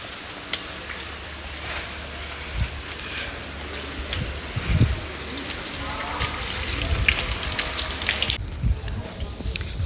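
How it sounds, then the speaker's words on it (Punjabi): Heavy rain pours near the Anandgarh fort at Anandpur Sahib, a constant patter and hiss with scattered louder drops and light knocks, steady throughout. "ਪੂਰੀ ਤੇਜ਼ ਬਾਰਿਸ਼ ਪੈ ਰਹੀ ਹੈਗੀ ਆ"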